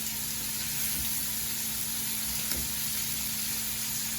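Scallops sear in a hot pan with a steady, close sizzle and crackle, a couple of soft clinks as they are turned, no voices.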